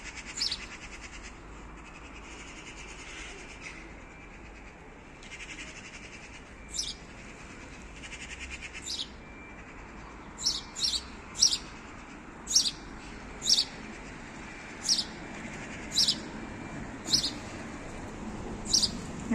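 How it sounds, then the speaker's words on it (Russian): A sparrow hopping in outdoor bushes gives a steady series of sharp, high chirps at regular intervals, clear and moderately close, over low ambient street noise. "Это воробей так кричит, в кустах тут прыгает."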